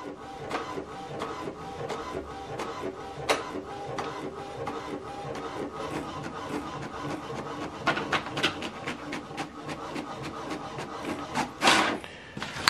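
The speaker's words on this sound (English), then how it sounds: "it will print out this document." An HP DeskJet 3700e inkjet printer copies a document, with a steady run of rapid mechanical clicks, shuttling whirs and paper-feed rasps close by, plus a brief louder grinding burst near the end.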